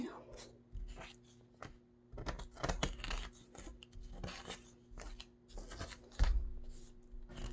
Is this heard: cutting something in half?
yes